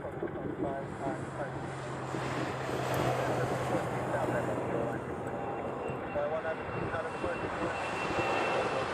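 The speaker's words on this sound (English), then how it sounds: "So we got a 717 departing." A Boeing 717 departing Honolulu airport gives off a distant, steady jet roar beneath wind noise, while people talk nearby throughout.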